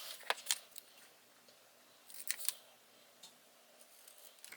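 Scissors snip through a paper note in a few quick, crisp cuts, two clusters of close, quiet snips separated by a short pause in an otherwise still room.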